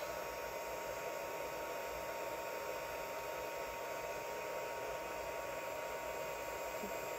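Heat embossing tool held a few inches from vellum cardstock, a steady, even blowing hiss throughout with no breaks.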